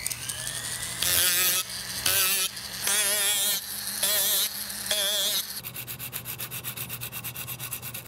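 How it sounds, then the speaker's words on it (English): A rotary tool grinds material off a foam prop in bursts, a loud high whine cutting in and out five times before settling into a quieter, pulsing buzz. "So I'm just going to use my rotary tool to get the bulk of the material removed"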